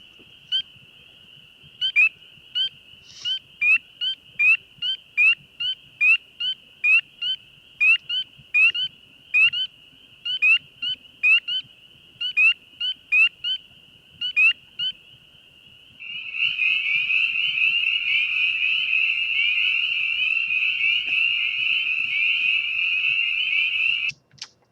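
A northern leopard frog calls in a field recording, starting with a long run of evenly spaced short pulses and then breaking into a steady, continuous snoring trill. It is clear and fairly loud over a quiet background with no voices.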